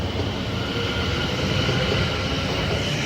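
Class 720 electric train 720575 departing Stratford station on the Great Eastern Main Line, a steady broad roar of wheels and motors with rail noise, continuous and close.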